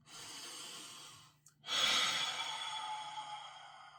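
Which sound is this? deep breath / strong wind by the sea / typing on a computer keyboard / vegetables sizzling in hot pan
deep breath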